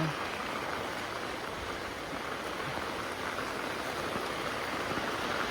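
Rainwater rushing down a drain and pipe, a steady, even wash of flowing water that stays constant throughout, moderately quiet and close.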